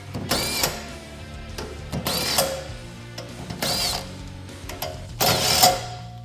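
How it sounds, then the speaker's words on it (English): Lug nuts come off a spare tire carrier on a Polaris RZR Turbo S with bursts of ratcheting whir from a wrench, five or so short runs separated by brief pauses and light metallic clinks, close by without speech. "we're going to go ahead and remove all of the lug nuts"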